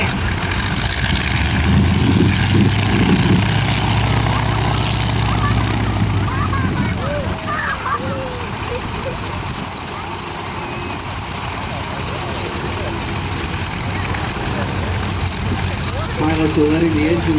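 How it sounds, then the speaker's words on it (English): Supercharged 9-cylinder Lycoming radial engines on vintage airshow planes, an orange airplane among them, warm up at an aerodrome with a steady low rumbling drone, loud and continuous, with people talking over it. "Pilots are letting the engines warm up."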